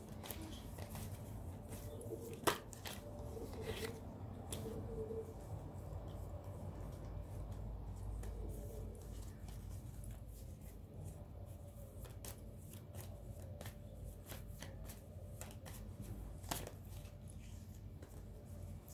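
Tarot cards being shuffled by hand in a quiet room, with soft riffling and light flicks and snaps at irregular intervals over a low background hum. The sounds stay faint and close.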